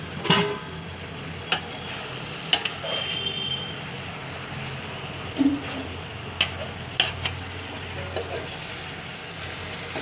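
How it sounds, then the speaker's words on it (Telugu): Fish pulusu (fish curry) simmering in a pan gives a steady low sizzle and bubbling, with scattered clinks of stirring and faint background voices. "మగ్గుతున్నాయి చేపలు మగ్గుతున్నాయి"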